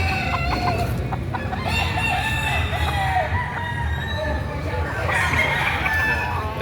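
Chickens and roosters at a livestock auction cluck continuously and crow at close range, with several birds overlapping in a busy, noisy crowd.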